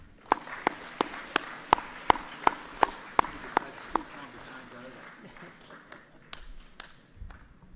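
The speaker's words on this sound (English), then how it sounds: "Round of applause" A school end-of-year assembly for Year 8 and 9 students gives a round of sparse, evenly spaced claps, sharp and fairly close, that thin out and fade over several seconds with no talking.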